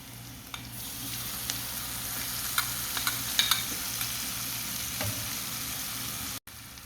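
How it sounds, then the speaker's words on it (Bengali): Spice paste frying with onions in oil in a pan for a rohu fish curry, a continuous close sizzle with occasional light scrapes and clicks of stirring, ending abruptly. "এখন আমি যে মশলাটা গুলিয়ে রেখেছি এটা দিয়ে দেব।"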